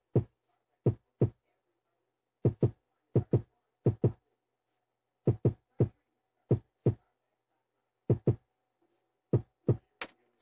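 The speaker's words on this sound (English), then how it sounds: "the kick sounds like this." Punchy kick drum sample from a beat-making drum kit, struck alone in short groups of two and three hits with gaps between, clean and dry, ending with a brief brighter hit.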